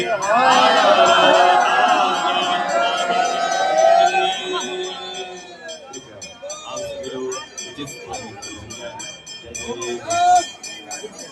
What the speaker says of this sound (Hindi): हर हर महादेव के नारों से गूंजता हुआ घाट।